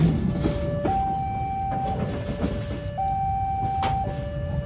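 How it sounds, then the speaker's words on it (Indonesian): The Argo Wilis passenger train passes a level crossing at Gilingan in Solo, Surakarta, Central Java. A steady two-tone crossing warning alternates over a low rumble of rail traffic at moderate distance. "Tapi Argo Wilis akhirnya melintas."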